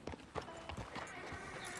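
Horse hooves clip-clop in an uneven trot in Red Dead Redemption 2, a few sharp knocks followed by softer steps over a steady outdoor game ambience.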